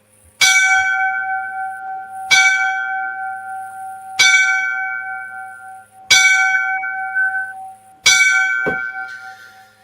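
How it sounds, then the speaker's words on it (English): Five slow, evenly spaced strikes of a ringing bell for a fallen fire captain, each a loud clang that rings out and decays before the next, alone without talk. "So we're going to give the 5 bells to Captain Turley."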